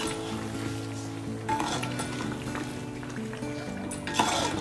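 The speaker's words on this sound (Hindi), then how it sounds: "मिक्स कर देंगे इसको।" Garam masala being stirred into a pot of chicken korma: a metal spoon clinks and scrapes against the pot over a low sizzle, with a few louder clanks close by.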